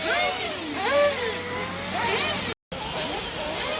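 Race cars sliding sideways through drifts on a wet track at the Montpellier Grand Prix, with engines revving and rising and falling in pitch as the cars pass, fairly close and loud throughout.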